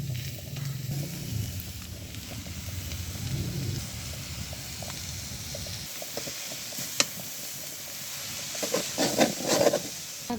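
Greens, onion, garlic and green chili frying in a pan, giving a steady low sizzle with soft stirring scrapes and a few sharper clicks near the end, no talk.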